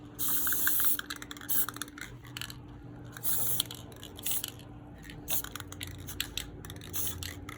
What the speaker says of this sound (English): I've given my paint a good shake. This is the white. I'm just gonna give it a quick dust coat.